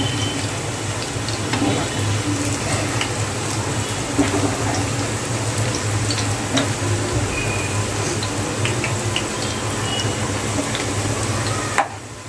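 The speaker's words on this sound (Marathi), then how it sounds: "चला, चांगला असे फ्राय करून घेऊया." Onion bhaji fritters deep frying in hot oil give a dense, steady, fairly loud sizzle that holds unbroken for about twelve seconds before fading slightly at the very end.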